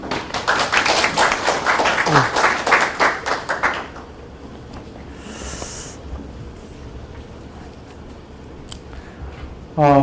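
A crowd claps loudly for about four seconds as a professor comes up to speak at a church lecture, then the applause fades into a quiet room, and a voice starts speaking at the very end.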